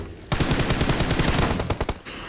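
A rapid burst of automatic gunfire in a video game, dense repeated shots for nearly two seconds, loud and close, with no talk.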